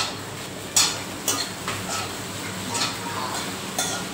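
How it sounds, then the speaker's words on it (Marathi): Khichdi being stirred and mixed with salt in a pot, a spoon scraping and knocking against the metal in a handful of distinct clinks spread over a few seconds against a low background hiss. "आणि परत व्यवस्थित मिक्स करून घेतोय."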